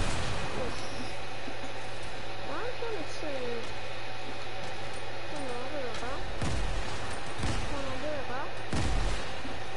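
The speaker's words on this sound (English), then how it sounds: "Someone's shooting rockets at me." Rockets fired at the player in a video game, a few sharp, heavy blasts landing near the end, with a voice talking over steady game noise.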